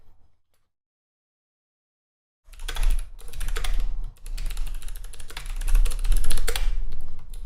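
Rapid typing on a computer keyboard, fast dense clatter of close keystrokes starting abruptly after a couple of seconds of silence and continuing in bursts, no speech.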